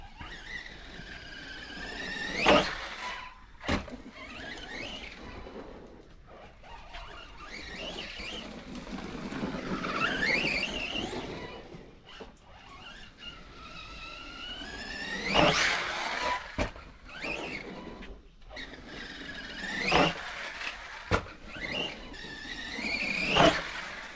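Arrma Outcast 4S v2.5 RC car with a Max 8 motor system driving, its motor whining and rising in pitch through repeated high squealing bursts as it accelerates, nearby and loud, with short pauses between runs.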